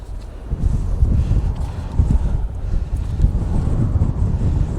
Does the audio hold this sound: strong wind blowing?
yes